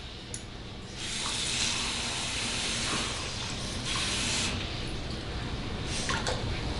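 Three-quarter cup of water hitting a hot pan of dirty rice with beef broth, a loud steady hiss and sizzle that surges in after a quiet first second and keeps going, close by with no talk.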